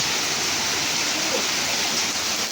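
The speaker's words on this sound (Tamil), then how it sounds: "பாருங்க பயங்கரமான மழை." Heavy rain pours down in a dense, loud, unbroken hiss that fills the whole stretch evenly, with no talking heard over the downpour.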